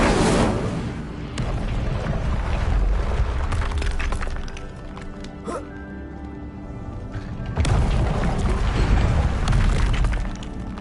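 The Incendio fire spell is cast in the video game Hogwarts Legacy, giving a loud, roaring burst of flame and rumble that fades mid-clip, then surges back just as strongly.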